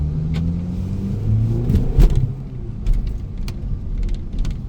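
An Audi A5 2.0T with a timing fault (code P0016) rumbles along on a test drive, its engine droning steadily from inside the cabin, with a few light clicks and knocks over the low road noise.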